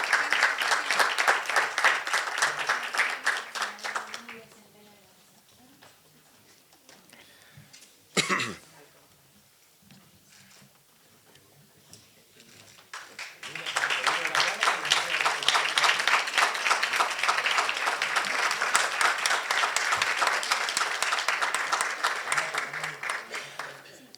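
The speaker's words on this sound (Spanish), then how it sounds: "Le damos un fuerte aplauso y hacemos entrega" Audience applause at a human-rights panel event on population ageing, a dense round of clapping that fades to a quiet lull with a cough and murmuring, then a second strong, sustained round of clapping.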